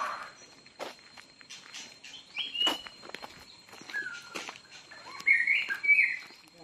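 Several birds chirp in a fruit orchard on Koh Samui, Thailand, giving brief scattered tweets and short whistles at moderate distance, mixed with footsteps crunching on the ground.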